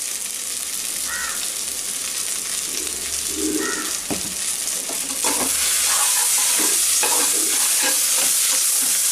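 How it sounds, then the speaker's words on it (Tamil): Ginger garlic paste frying and being stirred in a pan during village-style cooking, a steady loud sizzle with scraping stir strokes and crows cawing now and then in the background. "இப்போ இஞ்சி பூண்டு பேஸ்ட் போட்டுக்கிறோம்."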